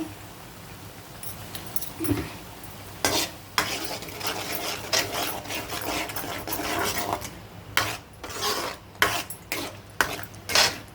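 Onion and green chili paste frying in a pan for a tamarind-leaf chicken curry, with a steady sizzle and repeated sharp scrapes and knocks of a spoon as it is stirred, fairly close and with no talking.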